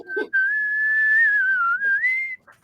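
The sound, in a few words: whistling the beginning of My Heart Will Go On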